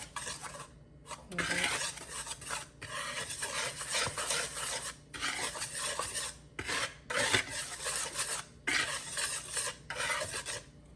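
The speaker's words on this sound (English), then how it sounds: "I mix these together before I add in the sugar." Dry cornbread ingredients with baking soda being mixed in a bowl, heard as a continuous gritty scraping and rasping that comes in steady strokes with brief pauses, close up and moderately loud, with no talking.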